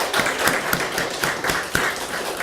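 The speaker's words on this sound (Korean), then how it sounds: "그 사람들 수고했다고 박수 한번 쳐줍시다" A church congregation claps together during a Sunday service, a dense, steady wash of many hands applauding at once, loud and close, with no speech over it.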